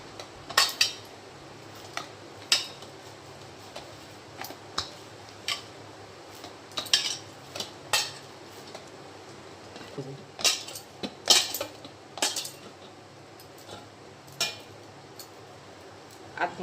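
Dough for bhapa bread is worked with white oil in a bowl, giving scattered soft clinks and knocks against the bowl at irregular intervals. The sounds are fairly faint and come with no talk.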